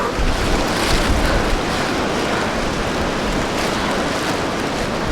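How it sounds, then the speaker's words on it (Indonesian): Strong wind roars steadily on Mount Bismo, buffeting the microphone, a loud continuous rush with no voices. "Kencang anginnya."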